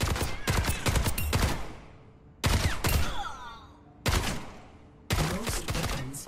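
Gunfire at training bots in Overwatch 2, four separate loud bursts of rapid shots, each sharp at the start and trailing off, with brief pauses between them.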